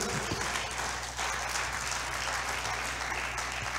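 Church congregation clapping in praise, a dense, steady wash of applause filling the room throughout, close and loud, with a low hum beneath.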